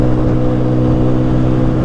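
A Haojin Rico HJ150-28 motorcycle engine held high at about 8,000 RPM, a loud, steady, droning hum mixed with rushing wind, with no pauses.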